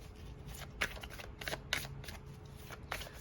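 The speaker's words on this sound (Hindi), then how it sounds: "यहाँ से एक कार्ड लेते हैं नेचर अरकाना से।" Tarot cards from a Nature Arcana deck rustle and snap softly as one is drawn, a few quiet close papery flicks in quick succession.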